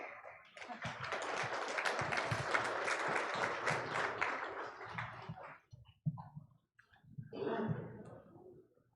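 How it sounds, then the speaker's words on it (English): Sustained applause from a crowd at the Anishinabek Nation Grand Council Assembly for several seconds, fading out, then a short pause and a smaller renewed burst of clapping. "I think we have to sustain the applause until he arrives."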